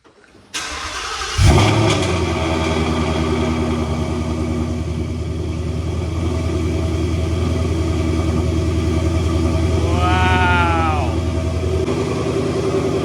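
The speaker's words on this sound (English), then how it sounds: "cold starts are pretty loud in this thing" A supercharged Mustang engine cold-starts, cranking and catching after a brief moment, then settles into a loud, steady, rumbling idle inside a garage, with a brief rev near the end.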